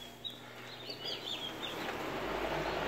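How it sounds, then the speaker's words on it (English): Baby turkeys peep in a shipping-container brooder fitted with heaters and a cycling fan. Scattered high chirps rise over a constant low fan hum, fainter and sparser toward the end, with no voices. "I'll go over here where we do have some baby turkeys."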